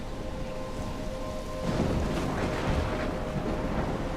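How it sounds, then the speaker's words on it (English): Thunderstorm in Life is Strange: constant heavy rain hiss with a deep rolling rumble of thunder that builds midway and stays loud, no one speaking. "I'm trapped in a storm?"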